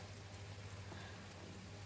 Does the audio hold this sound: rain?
yes